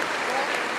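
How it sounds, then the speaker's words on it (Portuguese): A church congregation applauds inside a temple during a Christian testimony, a dense, steady burst of clapping from a crowd, brief and sustained throughout. "Vamos aplaudir ao nome de Jesus."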